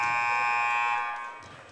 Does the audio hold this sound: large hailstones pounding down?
no